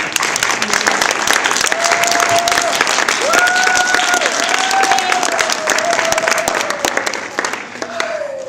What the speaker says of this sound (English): Should we applaud him?